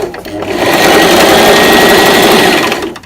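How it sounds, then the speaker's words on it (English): A sewing machine stitches T-shirt fabric for a dress, running in one continuous loud, close whirring burst for about three seconds, speeding up and then slowing to a stop. "You have to help the fabric through the machine. So now you're sewing till you reach the other end"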